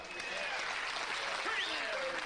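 A poker player clapping at a World Poker Tour table after a winning card, a steady wash of applause with commentary voices over it.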